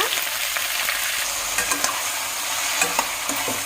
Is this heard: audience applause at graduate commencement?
no